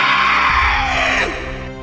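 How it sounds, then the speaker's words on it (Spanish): A monstrous zombie-like ripper creature lets out a loud, hoarse, drawn-out scream, harsh and strained, sustained close for nearly two seconds before fading slightly at the end. "Un chillido tan fuerte que había hecho que, prácticamente como un reflejo, me tapara los oídos."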